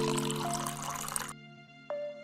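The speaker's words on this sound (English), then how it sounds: "Take a bowl, fill it with some water." Water poured into a bowl to prepare for tissue art, a steady broadband splashing rush for over a second that stops abruptly, leaving quiet tonal background with a brief tone near the end.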